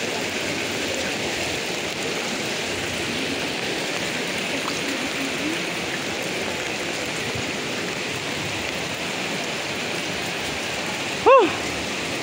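Heavy rain during severe flooding in the Philippines, a continuous broadband wash of downpour with no letup, broken once near the end by a brief louder tonal blip.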